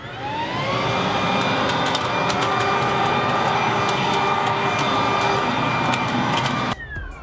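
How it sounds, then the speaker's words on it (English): A Ryobi blower vac for sucking up and blowing leaves runs at a steady loud, high-pitched whine for about seven seconds, then cuts off abruptly near the end. "The blower vac thing to suck up leaves and blow."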